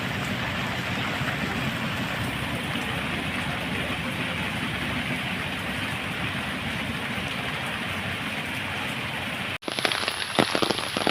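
Steady rain falling outdoors at Uthralikkavu Bhagavathi Amman Temple, an even, dense hiss that continues without letup before an abrupt cut to a different, rougher noise at the very end.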